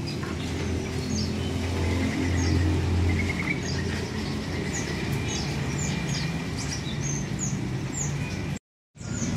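Buffalo mynas (jalak kebo) at a bird market call with short chirps and whistles over a steady ambient hum, with a brief dropout near the end.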